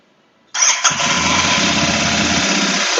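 A Royal Enfield Interceptor 650 motorcycle fires up after a brief silence and settles into a steady, loud, close idle with slightly raised revs, running alone without voices.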